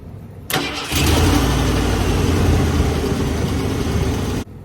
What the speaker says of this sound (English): come over here and start the truck like this